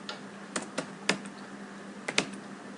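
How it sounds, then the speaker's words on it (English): A computer keyboard clicks with a handful of quiet, separate keystrokes, some in quick pairs, over a faint background hum, with no one talking. "you have to type the command show CDP"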